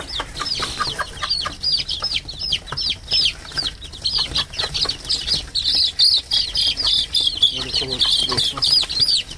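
Hens and chicks cluck and peep continuously at close range while pecking at earthworms, a busy overlapping chorus of chicken calls with some scuffling.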